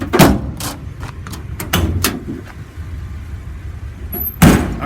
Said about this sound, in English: All the cabinet doors open and close as they should.